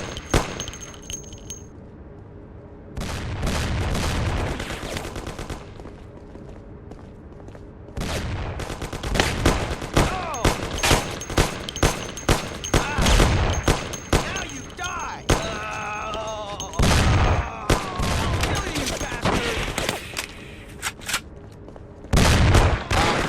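Repeated gunshots in the video game Mafia, loud sharp cracks in irregular clusters and rapid volleys, with talking and other game sounds between them.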